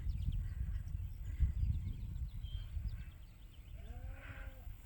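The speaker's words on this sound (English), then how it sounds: "The ewe lambs have decided to head this way." Ewe lambs move across a pasture with low rustling and wind, and one distant bleat rises near the end.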